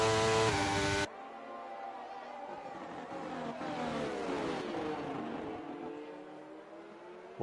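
A Formula 1 car engine in a sim racing game revs high and strong at close range, its pitch climbing and sweeping with gear changes and a touch of wheelspin, then easing off over several seconds with no voices.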